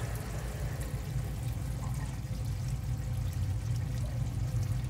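A dishwasher pumps out its water with a steady low motor hum and gurgling, rushing drain flow, continuous and fairly close throughout.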